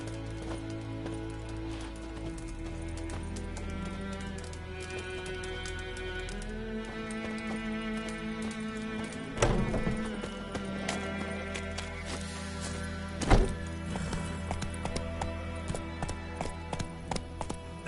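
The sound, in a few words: horse Roach galloping hooves in Witcher 3 video game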